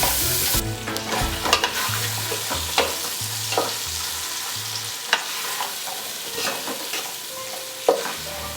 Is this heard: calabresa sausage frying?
yes